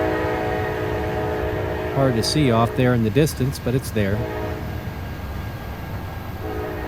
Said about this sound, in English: Yet another train